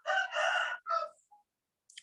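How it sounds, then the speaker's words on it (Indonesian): A rooster crows on a farm field, two loud close calls in quick succession followed by a shorter third, then quiet with faint bird chirps. "Ada suara-suara ayam bekokok."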